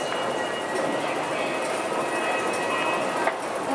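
A Hong Kong metro train runs on its rails, producing a steady, moderately loud rumble and hiss that holds evenly, with a faint click near the end and no talk.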